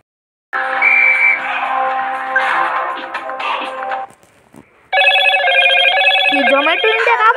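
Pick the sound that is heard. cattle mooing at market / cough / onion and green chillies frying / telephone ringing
telephone ringing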